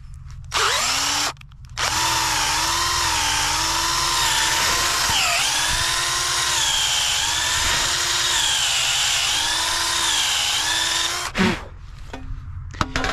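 A power drill whines steadily for about ten seconds, its pitch dipping and straining as it bores into hard wood, with brief pauses at start and end.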